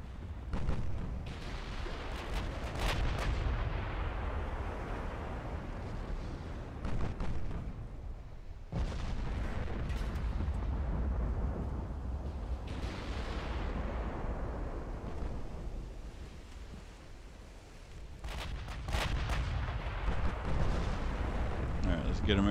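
Naval artillery in the warship game Ultimate Admiral: Dreadnoughts, including 8-inch shells: heavy booming salvos with long rumbling decays, several big blasts spread across the stretch, fairly loud, with a voice talking at times.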